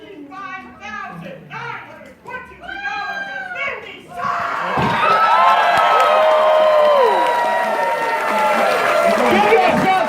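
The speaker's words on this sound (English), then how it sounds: "Give yourselves a huge round of applause." A charity auction audience at Ponyville Ciderfest 2019 bursts into loud applause and cheering that swells and holds strong. Children's voices and crowd chatter come just before.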